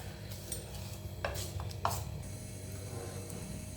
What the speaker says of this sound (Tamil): வாட்டர் ஆட் பண்ணி நல்லா மிக்ஸ் பண்ணி விட்டுக்கிறேன்.